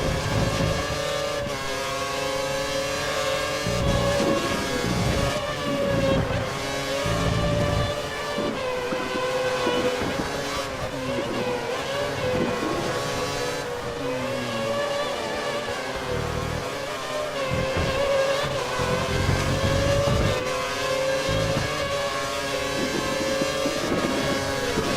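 A race car engine drones continuously through a lap, its pitch rising and falling with throttle and gear changes as the car takes curves and straights, loud and close with no talk.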